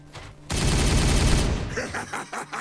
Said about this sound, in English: Firing on target! Open fire!